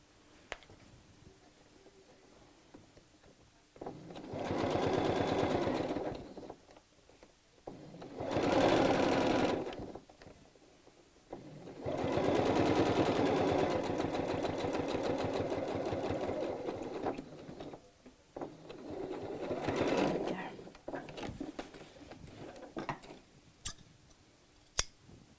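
A domestic sewing machine stitches in a zip on a straight skirt, running in four separate bursts of rapid, even whirring with quiet pauses between, close and clear with no talk.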